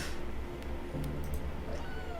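A cat meows in the indie game A Mortician's Tale, short mews over a constant dense background hum of game audio.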